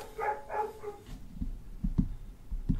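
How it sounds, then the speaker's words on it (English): Several dogs bark in short, sharp bursts indoors near feeding time, a few yelps early on followed by scattered, fairly close woofs with quiet gaps between them. "Sorry about the dogs barking."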